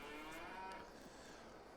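A cow in Farming Simulator 22 on a Swiss dairy farm moos once in a long, low call, fairly quiet and alone over faint game ambience.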